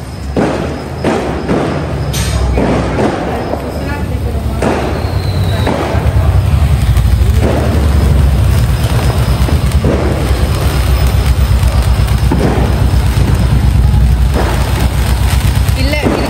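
Repeated sharp firecracker bangs pop at irregular intervals over a steady low rumble during Diwali celebrations, with people talking in the background.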